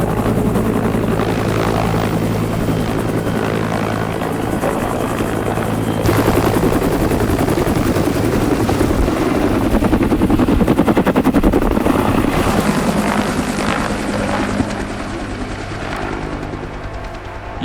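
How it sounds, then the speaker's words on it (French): Loud, continuous rotor thump and engine roar from a firefighting helicopter flying over a forest fire in Quebec, steady and close throughout with no talking. "suis dans un hélicoptère avec ceux qui combattent les feux de forêt au Québec"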